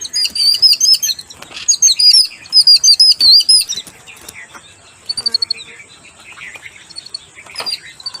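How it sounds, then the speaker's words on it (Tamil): A yellow-billed babbler gives thin, high chirping calls in quick repeated phrases, fairly close, for the first few seconds, then sparser faint chirps and clicks follow against a quiet background. "இப்போ தவிட்டு குருவியோட சத்தம்"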